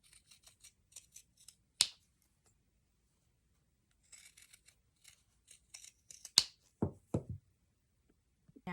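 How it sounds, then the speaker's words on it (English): Pinking shears cut fabric seam allowance around a curved edge in a quiet room, giving crisp, close snips in short bursts with soft rustling between them. "I'm going to trim the seam allowance with my pinking shears."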